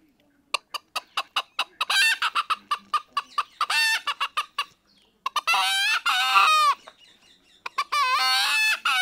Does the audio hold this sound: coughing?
no